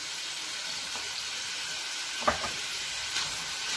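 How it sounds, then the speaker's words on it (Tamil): Prawns sizzling and frying in a pan with masala, chili, cumin and turmeric powders, a steady close hiss of oil with a couple of brief stirring scrapes partway through. "சேர்த்துட்டு நல்லா வதக்கிக்கோங்க"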